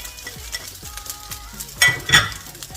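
Liver and shrimps hit a hot pan of already-fried rice, sizzling steadily while utensils scrape and clink in a stirring rhythm, with a louder hiss burst near the end.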